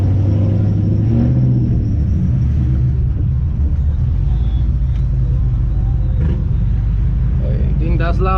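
Loud, steady low rumble of a Shelby's engine while driving, a continuous near drone with slight surges, with talk over it.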